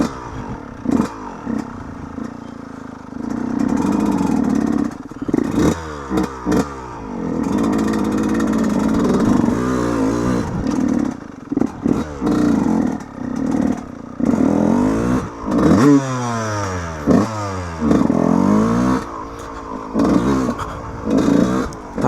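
A Yamaha YZ125 two-stroke dirt bike rides an off-road trail, its engine revving up and down through repeated throttle bursts and gear changes, close and loud, with clattering from the rough ground.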